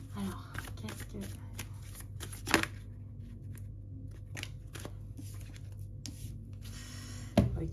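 Tarot cards being shuffled by hand, soft papery riffles and slides repeating through the stretch with a couple of sharper card snaps, close and fairly quiet, with a voice speaking now and then.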